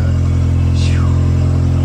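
A car being driven out sounds as a loud, steady engine drone close to the listener, with a brief falling whistle-like sweep partway through and no pause in the running motor.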